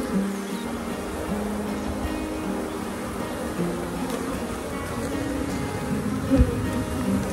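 Honeybees hum from a freshly split, opened hive, a dense, close buzzing drone with individual bees flying past and a brief knock near the end.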